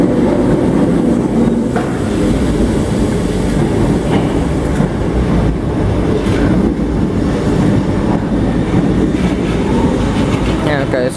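An electric passenger train departs Liverpool Central station, rumbling steadily with low wheel noise and faint clicks on the rails, a continuous loud mechanical drone throughout.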